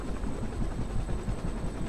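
Helicopter rotor in the Mortal Kombat X story mode, a steady dense low thumping wash that holds level throughout with no voices.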